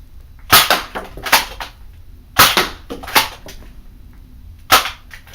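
A Nerf Zombie Strike CrossFire Bow fires foam darts in about five sharp, snappy bursts, spaced irregularly across a few seconds. Each launch is close and crisp, with quiet room tone between shots.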